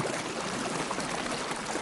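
Hands splashing and washing in river water, a brief soft trickling, sloshing wash of liquid, faint and continuous with no talk.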